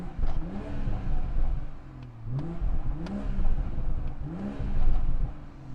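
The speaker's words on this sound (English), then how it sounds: "If I just rev it, and you could hear we're in Sport Plus right now, and those crackles and pops" A 2020 BMW M340i xDrive (G20) in Sport Plus mode revs its exhaust several times in quick succession, each rising surge ending with sharp crackles and pops, loud and close with no talking.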